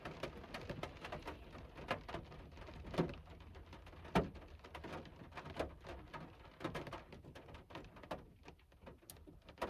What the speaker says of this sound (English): Rain sounds really nice for a moment.